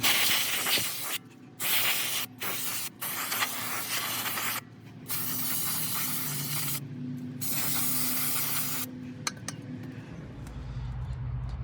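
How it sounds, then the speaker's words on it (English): An aerosol can of brake cleaner sprays in long hissing bursts separated by short pauses onto a Kia Forte brake rotor, close and loud, ending with a low rumble. "I'm just gonna get some brake clean right here, some brake clean, and spray it."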